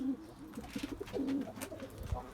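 Domestic pigeons kept as tumbler birds cooing softly in a loft, short low murmuring coos rising and falling close by, with light background rustle and no speech.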